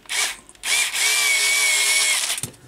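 A power screwdriver whirs close by as it drives 4x12 screws into the plastic ORV chassis of a Tamiya Subaru Brat model kit: a short spin, a pause, then one longer steady drive that stops abruptly.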